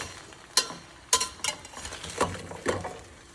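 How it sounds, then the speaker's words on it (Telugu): Sweet potato pieces sizzle gently in a pan as a spoon stirs and knocks against the metal, five distinct scraping strokes over a soft frying hiss, close with no voices. "We have to stir a bit."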